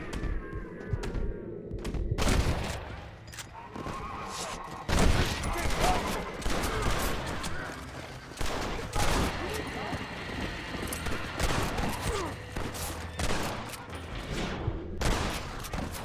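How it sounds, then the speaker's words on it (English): Rapid bursts of gunfire in Red Dead Redemption on PS5, loud and dense shots mixed with hoofbeats and shouting voices over about sixteen seconds, with brief lulls between volleys. "Stop shooting!"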